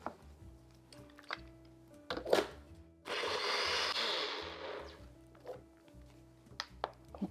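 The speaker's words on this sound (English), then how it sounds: "And we're just going to blend this up until it's really," A countertop blender runs loudly for about two seconds, whirring a batch of oil-free vegan French salad dressing made with filtered water, amid surrounding clicks and light handling sounds before and after.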